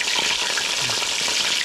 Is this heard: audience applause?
no